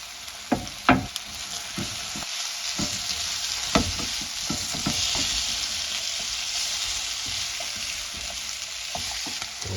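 Eggs and mixed vegetables for an omelette sandwich sizzle steadily in a pan on a stovetop, with a few sharp clicks and stirring scrapes near the start and a constant hiss throughout, no talking.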